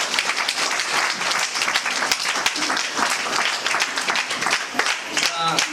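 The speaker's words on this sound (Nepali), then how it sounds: "ताली बजाए दें एक बार।" A church wedding congregation breaks into loud, continuous clapping, a dense crowd applause lasting several seconds with voices murmuring and calling out beneath it.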